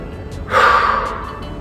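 A single sharp gasping breath, close and fairly loud, from a person pausing between sets in a home cardio boxing class, with faint room noise around it.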